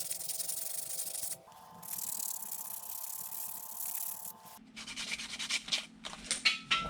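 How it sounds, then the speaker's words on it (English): Hand-sanding a square-bill crankbait carved from cherry burl wood: steady, close scratchy rubbing strokes that shift in pace partway through and end in quicker, choppier passes, with no talking. "I think it is time to sand."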